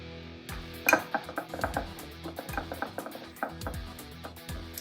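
A utensil scrapes and taps against a bowl while stirring garlic powder, onion powder and paprika together, a steady series of soft clinks and scrapes heard close and alone.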